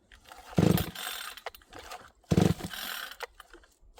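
A Vevor 62cc two-stroke chainsaw being started with its easy-start pull cord: two sharp, rasping pulls about two seconds apart, close and fairly loud, with brief sputters but no running engine between them.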